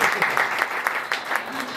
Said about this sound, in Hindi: आप चाहें तो ताली बजा सकते हैं